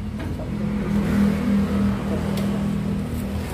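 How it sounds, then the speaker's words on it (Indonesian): A Fujiyama PH65 jack hammer engine, serviced after an oil leak, runs steadily at close range with a smooth, even hum and no harsh knocking, holding constant for a few seconds. "Suara mesin normal itu dia minim sekali suara berisik."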